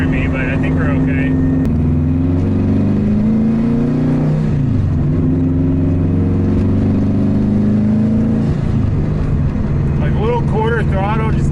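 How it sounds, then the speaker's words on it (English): A WRX-swapped Subaru GC8 with its boxer engine drones steadily as it accelerates into boost, heard from inside the car under a speaking voice, with rising engine tones toward the end. "Throttle, just getting it into boost, it feels really good."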